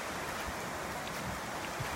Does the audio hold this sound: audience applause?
no